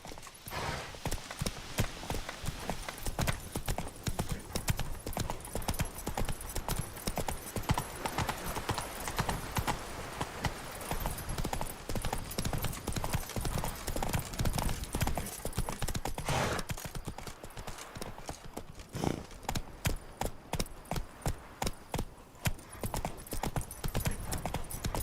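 Steady, rhythmic clip-clop of Roach the horse's hooves in The Witcher 3 video game, continuous and fairly loud throughout, with occasional heavier beats as the gait shifts.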